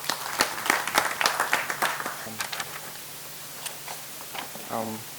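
An audience at a farmers' business school launch event gives a speaker a short round of applause, scattered claps that thin out quickly and give way to quieter room noise with a brief low hum.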